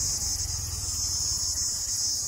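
Insects like crickets chirping on Mandaragiri Hills near Tumkur, a continuous high, shrill trill holding steady and fairly loud with a faint low rumble underneath and no voices.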